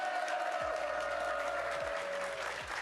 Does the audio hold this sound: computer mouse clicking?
no